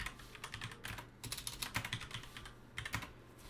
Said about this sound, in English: I'm going to type out my print array function.